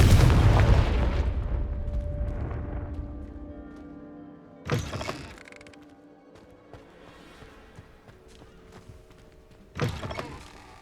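The Confringo fire spell bursts in Hogwarts Legacy with a loud opening boom that fades away. Two more sharp explosive hits follow several seconds apart, over a quiet, tonal background.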